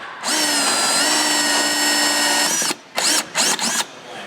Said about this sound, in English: this little hole saw is the right size for that, so I'm going to go ahead and pre-drill our hole